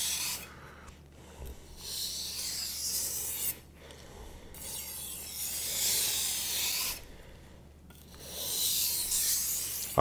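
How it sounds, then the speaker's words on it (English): Knife being sharpened on a 1000 grit whetstone: slow rhythmic raspy strokes of steel on wet stone, each a long gritty hiss separated by brief pauses, close and fairly quiet. "I'm letting the knife just sit on the stone."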